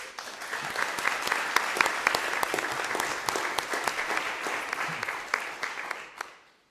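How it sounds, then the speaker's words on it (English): Sustained applause from a crowd at a college board meeting awards presentation, steady dense clapping throughout that fades out at the end. "We have a round of applause for all our winners."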